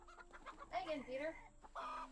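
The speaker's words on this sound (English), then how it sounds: "those are chickens and chicks." Chickens and chicks cluck in the Garden Paws video game, giving a few short, clear clucks and warbling calls close up against a quiet background.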